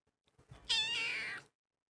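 A feral cat gives a single short meow, close and clear, against a quiet background.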